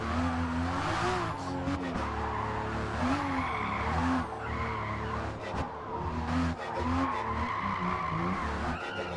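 A car sliding sideways through a drift in Forza Motorsport, its tires squealing in long wavering screeches over a constant engine roar that rises and falls.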